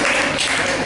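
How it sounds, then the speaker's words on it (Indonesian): Classroom audience claps together, a dense, steady patter of many hands sustained evenly through the short burst. "Tepuk tangan untuk Dimas dan"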